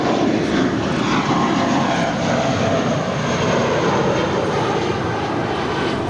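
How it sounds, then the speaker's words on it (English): JetBlue Airbus A320 jet departing Los Angeles airport at night, a loud, steady broadband engine roar filling the whole clip without letup, heard from nearby. "That is JetBlue Airways Flight 1732 departing to Salt Lake City. It's an A320"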